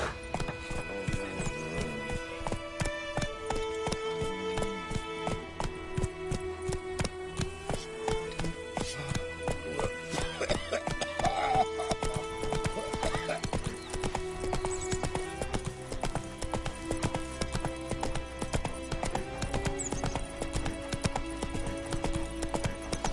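Geralt's horse Roach gallops in The Witcher 3 on PS5, quick rhythmic hoofbeats pounding close and steady against game music, with a brief whinny.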